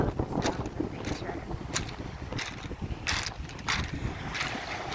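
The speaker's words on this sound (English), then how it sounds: "the wind is quite more breezier over this way" Wind gusting on a beach in Cornwall, buffeting the microphone in irregular rumbling bursts over a constant background of surf.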